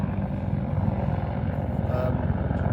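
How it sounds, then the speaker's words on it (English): A helicopter's rotor thumps steadily with a low rhythmic chop, loud and continuous as it passes close overhead at a park lake in Bedfordshire. "Sorry, there's a helicopter coming over."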